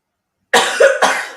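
A person with the flu coughs twice in close succession, loud and near, with a raspy, chesty quality and no talking.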